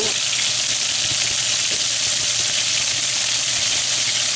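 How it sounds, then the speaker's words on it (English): Beef tournedos searing in a hot pan just after being flipped, giving a loud, steady, close sizzle that holds without a break and has no voices over it. "Our Tournedos are browned on one side, so we're going to flip them over."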